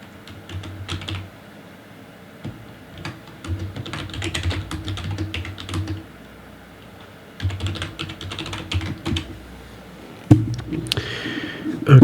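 Bursts of fast keyboard typing on a computer keyboard, close and clear, coming in several runs separated by short pauses, followed by a louder clatter at the end.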